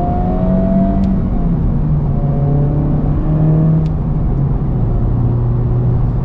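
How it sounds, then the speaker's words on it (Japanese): Honda Civic Type R engine in R mode, heard from the cabin as a steady, continuous drone with rising and falling tones as the throttle is held and the car downshifts to second, loud and without talk. "このエンジンサウンド R モードとかスポーツモード入れても、まあ、嫌なサウンドではないんですよ。"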